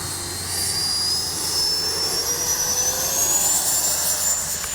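A Freewing 90mm Zeus RC jet spools up for takeoff with a loud, steady turbine roar and a high whine that rises slowly in pitch, with no talking.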